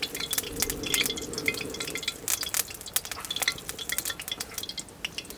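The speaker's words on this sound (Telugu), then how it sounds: "ఇప్పుడు నూనె వేడి చేసుకుని చికెన్ ఫ్రై చేసి పక్కన పెట్టేసుకుందాం." Chicken pieces frying in hot oil for street-style double egg chicken fried rice, a steady crackling sizzle with scattered sharp pops and spatters, close and fairly quiet with no talking.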